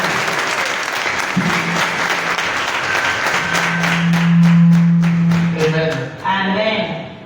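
Church congregation applauding during a worship service, sustained dense clapping from many hands that swells in the middle, with voices calling out and a sung tone rising over it near the end.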